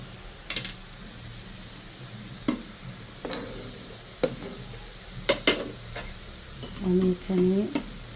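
Papaya laddu mixture with milk powder, cinnamon and cardamom is stirred in a pan, with a low hiss and sparse spoon scrapes and clinks, and a brief tonal sound near the end.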